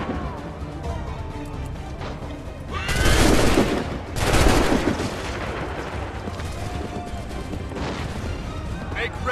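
Musket volleys in Assassin's Creed III: two loud, dense bursts of massed gunfire roll out in the middle, set against continuous battlefield noise, with shouted commands heard around them.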